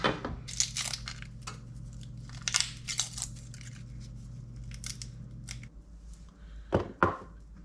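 A knife slices through a halved, peeled onion on a board, giving a series of crisp crunchy cuts in irregular bursts, close and fairly quiet over a low steady hum, with no talking.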